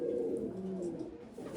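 A pigeon kept at home gives a short, low coo up close, a soft throaty murmur with no other sounds over it.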